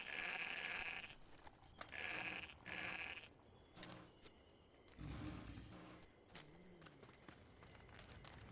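Sheep in the video game Age of Conan, during a Halloween questline, bleat in three clear, loud calls close together, followed by quieter thumps and scattered game sounds.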